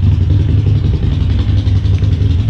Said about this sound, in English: You hear the noise of a motorcycle